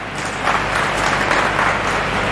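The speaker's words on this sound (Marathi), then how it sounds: "आणि छत्रपती शिवाजी महाराजांचं नाव घेतलं की सभागृहात पहिल्यांदा टाळ्या वाजल्या" Dense applause from an audience fills an indoor hall during a speech at a bullock-pair decoration competition. It is steady and fairly loud throughout.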